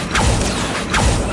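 Gate mechanism in Hogwarts Legacy grinding and creaking as it is pulled up by an Accio spell, two loud sweeping mechanical surges over about a second and a half, no voices.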